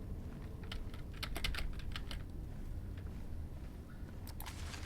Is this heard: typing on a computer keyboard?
yes